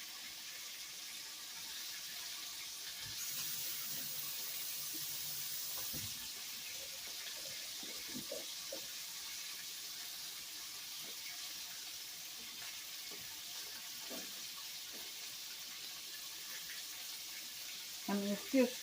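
Water runs from a kitchen tap and splashes into a sink in a steady, fairly quiet rushing hiss, with scattered clinks and soft handling noises and a few louder knocks at the end.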